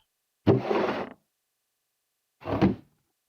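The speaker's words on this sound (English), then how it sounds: "Opening a barrel has a sound." Wooden barrel opening in Minecraft Java Edition 1.14: two separate short creaking thunks, the first longer, the second a quick knock about two seconds later, each followed by silence.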